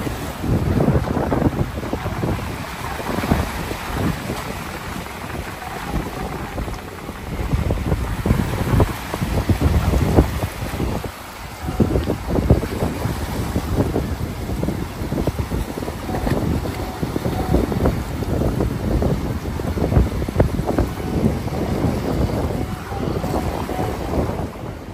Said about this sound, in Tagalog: Sarap makinig sa hampas ng alon.